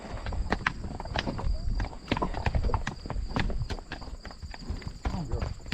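Horses ridden at a walk along a hillside trail, hooves clip-clopping steadily close by, with a rider talking over the hoofbeats.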